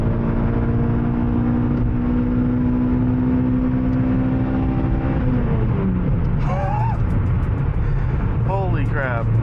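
A Toyota hot hatch accelerates up a highway on-ramp, its engine droning and rising in pitch through the revs, then dropping briefly between gears while a person speaks over it.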